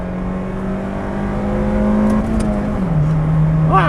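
A first-generation Honda Fit with a 5-speed manual and 109-horsepower VTEC four-cylinder is floored on a straight road, its engine droning and rising steadily in pitch, then dipping briefly at a gear change before climbing again, loud and close from inside the cabin.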